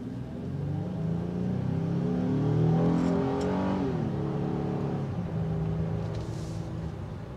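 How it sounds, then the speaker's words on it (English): V6 engine of a 2022 Honda Ridgeline HPD pickup hums steadily while driving, its exhaust note swelling slightly in the middle then easing, heard from inside the cabin with no talking. "With a nice exhaust note, plus it's still quiet inside the cabin."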